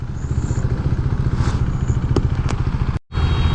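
A Husqvarna Svartpilen 401 motorcycle being ridden, its engine throbbing loudly and steadily close by with a rhythmic low pulse, a few clicks and rattles, and a brief dropout near the end before the engine note resumes.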